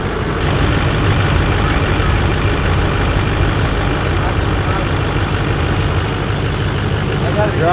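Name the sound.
LBZ Duramax diesel truck engine running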